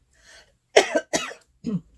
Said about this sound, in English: So I got this weird cough